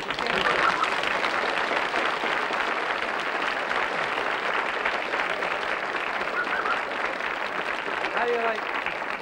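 A studio audience at a televised variety show applauds loudly and steadily throughout, a dense unbroken wash of many hands, with a brief voice rising near the end.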